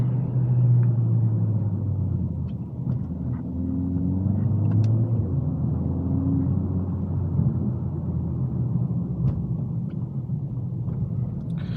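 A Mercedes CLA45s AMG driven hard in low gears with paddle shifters, its engine a steady, loud rumble that swells slightly with throttle throughout, with no talking.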